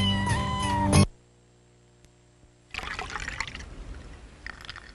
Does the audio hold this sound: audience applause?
no